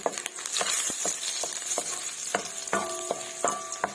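Onions hit a pan of leftover oil from frying dalagang bukid fish, a close sizzle with repeated metallic clinks and scrapes of a spatula stirring, no voices.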